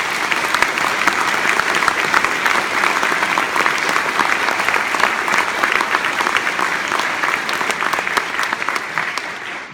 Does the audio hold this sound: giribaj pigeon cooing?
no